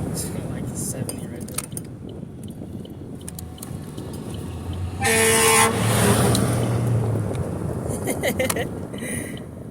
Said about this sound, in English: Fucking fire truck honked at me.